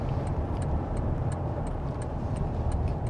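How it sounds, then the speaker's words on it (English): A 2025 Toyota Tundra SR5 4x4 pulls hard in sport mode, its engine a dense, steady low roar heard from inside the cab, with faint regular ticking above it and no voices. "we can open her up a little bit on the gas"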